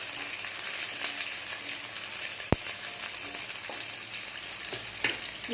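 Small onions sautéing in ghee for a chicken kurma, a steady bright sizzle and crackle with a single sharp tap partway through, close and alone without talk.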